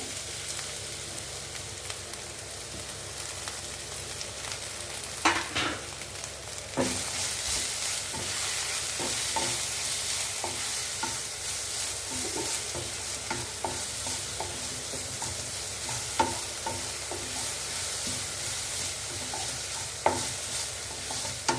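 Vegetables sautéing and being stirred in a hot pan for a South Indian poriyal, a continuous soft sizzle broken by repeated spatula scrapes and knocks, no talking.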